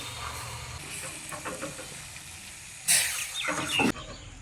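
Caramel being stirred through grated squash in a hot pan, a soft sizzle and scraping under quiet background, with a louder burst of hissing and clatter near the end.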